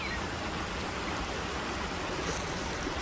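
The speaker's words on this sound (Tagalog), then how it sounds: "Malakas pa rin ang tubig daloy." A strong stream in a wooded area flows steadily as a dense, continuous rush of water, close and loud throughout, with no talk.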